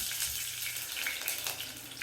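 A steady, close sizzle of fenugreek seeds and curry leaves frying in hot oil, with a soft crackle throughout and no talking.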